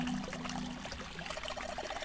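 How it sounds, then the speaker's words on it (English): Water pours steadily from a faucet in the video game Zero Escape: 9 Hours, 9 Persons, 9 Doors, a continuous soft trickling stream with a low hum underneath. "Water's filling up"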